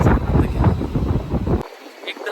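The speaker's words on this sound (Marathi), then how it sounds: "पण त्याबरोबर वारा सुटल्यामुळे मजाही येते" Gusty wind buffets the microphone on an open hop-on hop-off bus tour in Miami Beach, a loud, rough low rumble that fluctuates steadily and then drops away abruptly.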